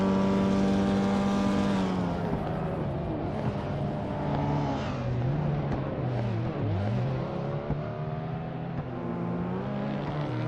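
Race cars roar steadily in a racing video game, a BMW 635 CSI running mid-pack, engine drone loud and continuous with pitch rising and dipping through gear changes and corners, no talk.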